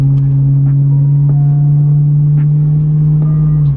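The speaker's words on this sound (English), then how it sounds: "I'm gonna floor it a little bit, see how it feels." A 1998 Ford Mustang GT V8 runs under throttle, heard close and loud from inside as a deep, steady engine drone that holds an even pitch, with faint creaks and ticks over it and no talking.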